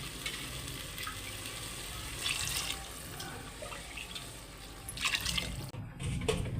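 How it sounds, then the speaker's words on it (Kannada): Six glasses of water are poured onto rice for pudina (mint) pulao, making a continuous close splashing rush with a few louder surges and no voices. "ಅದಕ್ಕೆ 6 ಗ್ಲಾಸ್ ನೀರು ಹಾಕಬೇಕು."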